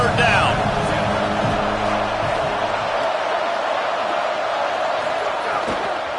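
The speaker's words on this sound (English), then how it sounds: "Decibels rising as the crowd gets behind this defense on 3rd down." A football stadium crowd roars loudly and steadily behind the defense on third down, a broad wash of cheering with a commentator talking over it.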